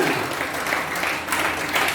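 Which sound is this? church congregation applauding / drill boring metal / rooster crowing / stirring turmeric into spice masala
church congregation applauding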